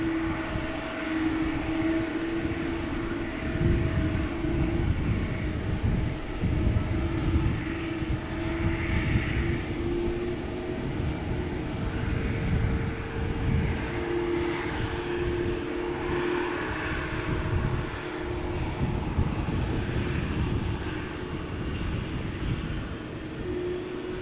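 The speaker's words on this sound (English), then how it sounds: "flight 8301 going to Barcelona, A321." An Airbus A321, eight years old, departs Amsterdam Schiphol Airport for Barcelona with a steady, loud jet engine roar and a sustained whine, rumbling evenly throughout without speech.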